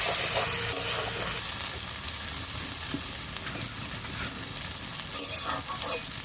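Spice paste with turmeric and bay leaves sizzles steadily in a pan, a continuous hissing fry with occasional stirring scrapes, close and fairly loud, no voices.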